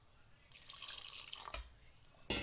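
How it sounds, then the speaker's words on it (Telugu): Water poured onto dough in a kitchen, a short close trickle that swells for about a second, pauses briefly, then splashes again at the end, with no talk. "చూసుకొని వేసుకోవాలండి వాటర్, అందుకే నేను చూసుకొని వేస్తున్నాను"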